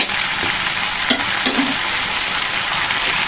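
Onion stalks frying in a covered pan give a steady, close sizzle throughout, with a couple of brief clinks from a utensil partway through.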